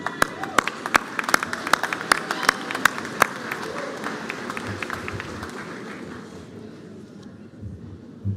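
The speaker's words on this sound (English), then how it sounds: "Join me in a round of applause to honor them who helped you attain your goal of being here" Applause fills a spring graduation ceremony hall, opening with sharp individual claps over a dense crowd clapping that gradually thins and fades out toward the end.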